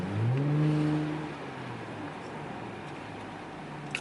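Exhaust of a 2018 Toyota Camry XSE with the muffler deleted, heard from inside the car: a low droning rumble that swells briefly near the start, then settles into a steady, muffled cabin hum.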